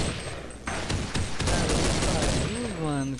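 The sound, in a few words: sniper gunfire in video game Counter-Strike 1.6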